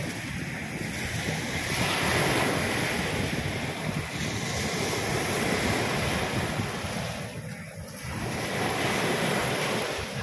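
Ocean surf at Manila Bay at high tide roars continuously, waves breaking and rushing in a broad, heavy wash with wind buffeting the microphone.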